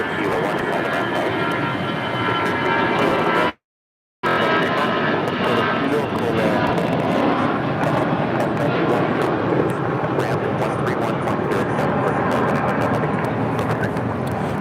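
An Allegiant Air A319 takes off at LAX, its jet engines a loud, steady roar that holds for the whole stretch, cut by one brief gap of silence, with faint voices underneath.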